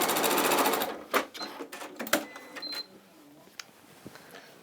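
Sewing machine stitching a campervan cushion, a short rapid burst of mechanical whirring followed by scattered clicks and handling taps, fairly quiet and close.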